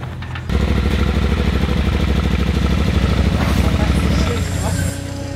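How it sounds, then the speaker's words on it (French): A Yamaha Ténéré 700 GYTR motorcycle engine starts up after a brief quiet moment, then runs close and loud with a steady, rumbling idle before easing back slightly near the end. "On va démarrer la moto tout de suite."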